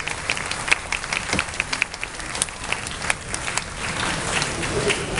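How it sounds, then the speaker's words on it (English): Scattered clapping from an audience honouring teachers at a school's 60th anniversary celebration, fairly soft and uneven with individual claps standing out over a light background. "a big warm round of applause for all the teachers who have put in the hard work over the last 60 years"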